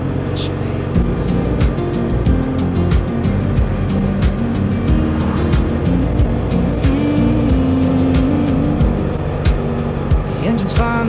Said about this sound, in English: The engine's finally warming, a familiar steady hum.